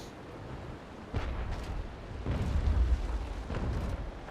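Broadside cannons on a sailing warship in the video game Naval Action fire one at a time, producing several separate deep booms that rumble at a distance.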